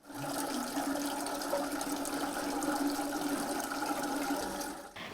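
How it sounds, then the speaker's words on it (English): Recorded running water plays in a sound museum room, a steady rushing flow that holds evenly for several seconds before cutting off, fairly quiet with no voices. "Here is sound of water."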